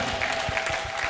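Worshippers at a Wednesday church service keep up steady, dense applause throughout, with a few louder individual claps and a sustained tone beneath.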